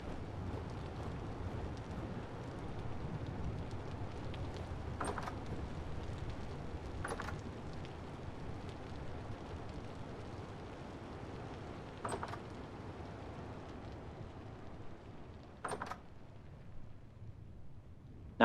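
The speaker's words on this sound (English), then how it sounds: "Now I notice when I walk over here, I hear the rain again." Steady rain in the video game Vintage Story, a soft continuous hiss with a low rumbling bed, broken by a few faint sharp ticks, distant and even throughout.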